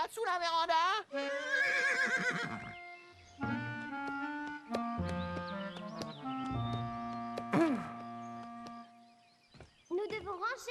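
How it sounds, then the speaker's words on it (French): A horse whinnies loudly several times, high rising neighs with shaky tails, interspersed with snorts and short pauses. "Il y a un cheval là, sous la véranda."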